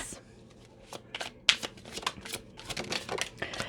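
Tarot cards being shuffled in repeated crisp riffling bursts, close and fairly soft, with rustling flicks building toward the end.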